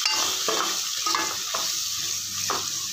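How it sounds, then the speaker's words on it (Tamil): Onions and green chilies frying in a pan for sambar, stirred with a utensil: a steady close sizzle under repeated scraping strokes roughly every second, with no talking. "வெங்காயம், பச்சை மிளகாய் இப்போ போட்டாச்சு. இதை நல்லா இப்போ கிண்டிக்கலாம்."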